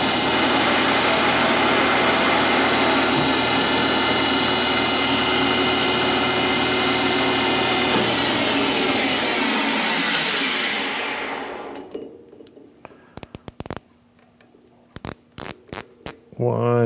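A carbide tool cuts metal on a lathe while making a taper tightening fixture for a toolpost grinder, a loud steady whirring hiss that winds down after about eleven seconds, followed by quiet clicks and handling noises.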